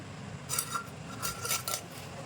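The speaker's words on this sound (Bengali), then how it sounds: "মাছটা এ দেখো এরকম পিস পিস করে কেটে নিচ্ছি বন্ধুরা" Knife cutting a big boal fish into pieces in a home kitchen: a handful of faint, quick metallic clicks and scrapes over quiet background, with no talking.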